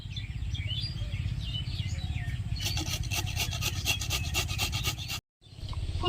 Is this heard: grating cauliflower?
yes